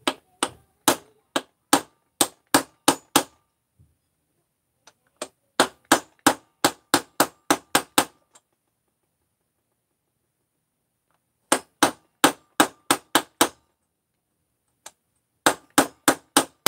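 A hammer drives a part into a crankcase during engine assembly, sharp metallic blows in quick evenly spaced bursts with pauses between the groups, loud and close.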